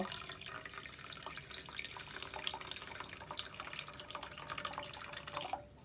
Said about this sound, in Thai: เราก็จะใส่น้ำชาที่เราเตรียมไว้นี่นะคะ ลงไปค่ะ